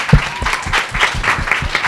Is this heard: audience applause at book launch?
yes